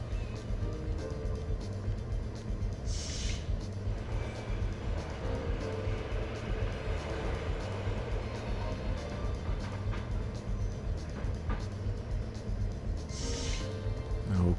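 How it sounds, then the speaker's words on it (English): Train ride in the video game Custom Robo, a steady low rumbling hum of the moving train running throughout at moderate level, with two brief hissing bursts near the start and end. "gotta take the train again"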